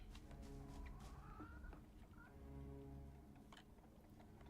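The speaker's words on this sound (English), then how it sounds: "Just gonna hug a chicken." A chicken clucks in a video game, a few soft, short clucks and squawks over a steady low background hum, fairly faint.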